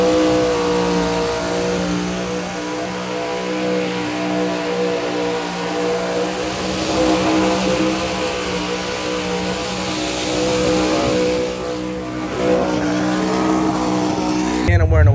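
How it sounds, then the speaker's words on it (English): A custom truck at the SEMA 2024 show in Las Vegas revs its engine hard and repeatedly, a loud, close, droning roar with rising and falling pitch, with voices mixed into the din. "this truck can go hella crazy"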